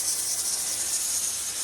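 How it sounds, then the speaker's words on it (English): Steam hisses steadily and loudly from a pressure canner, an unbroken high rushing noise with no pauses. "Got a steam show going on out here."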